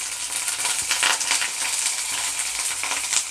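Mustard seeds, cumin and curry leaves sizzle and crackle in hot oil in a pan for poha, a bright, steady frying hiss with scattered pops and spits throughout, close and fairly loud, no talking.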